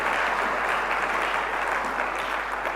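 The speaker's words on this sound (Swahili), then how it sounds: "Tupige makofi juu ya neno la Bwana." A church audience claps together in a sustained burst of applause, a dense, even patter of many hands filling the space without talk.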